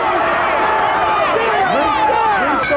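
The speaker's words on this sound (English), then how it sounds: "And the crowd saying yes." A wrestling arena crowd in Memphis chants and shouts, a loud rolling wall of many voices with rising and falling yells, while a commentator talks over it.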